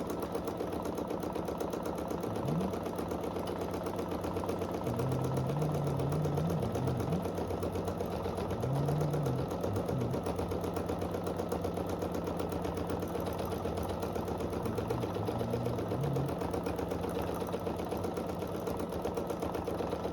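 A sewing machine runs steadily through stippling stitches on a small quilted runner, a continuous close mechanical whir with faint shifting tones as the fabric is moved, no talking.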